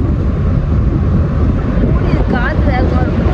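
Wind buffets the microphone outdoors in a continuous loud, rough rumble, with a faint voice briefly audible beneath it.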